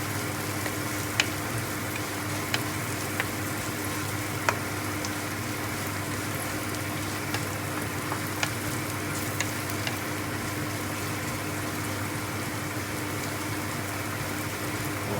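Turmeric fries in a pan for a crab curry, giving a steady, even hiss of sizzling oil throughout with a few faint scattered ticks and clinks, moderately quiet and close with no speech.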